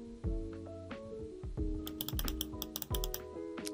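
A blue Zebra Sarasa Clip 0.5 gel pen clicked repeatedly, giving sharp, close plastic clicks in quick irregular bursts with no talking.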